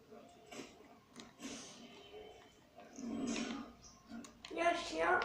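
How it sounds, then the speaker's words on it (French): A dog growls and whimpers in Assassin's Creed Origins, the snarls rising in loudness toward the end over game ambience. "Il y a un chien."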